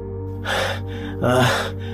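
Heavy, breathy panting from someone winded after running, two loud gasping breaths close up over a low background hum.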